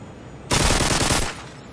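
A TMP submachine gun fires in a tactical video game, one loud, close, continuous burst lasting under a second and then trailing off quickly.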